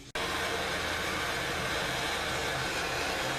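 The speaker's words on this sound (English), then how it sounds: "I'm going to go over to the compressor, put the air to it, just pop it just a little bit to push them out." Compressed air from a shop compressor blasts steadily into a 2000 Camaro brake caliper to push the pistons out, a loud, continuous hiss that starts abruptly and holds without break, with no talking.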